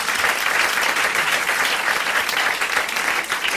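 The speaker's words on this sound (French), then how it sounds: "alors vous applaudissez Monsieur Legrand de Charleville" A studio audience on a 1984 French television game show breaks into sustained, dense applause, loud and even throughout with no pause and no talking over it.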